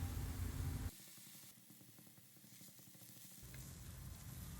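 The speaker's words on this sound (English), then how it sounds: "We'll now saute them for another 1 to 2 minutes until the paneer cubes turns golden brown in color" Paneer cubes and methi leaves sauteing in a pan, a steady sizzle that drops away briefly and then returns, close and fairly soft.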